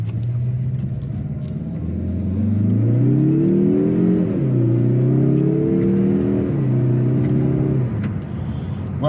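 A 2024 Mazda 3 hatchback 2.5 Turbo in sport mode accelerates hard from inside the cabin, its engine note climbing in pitch through rising sweeps with gear changes, steady and loud.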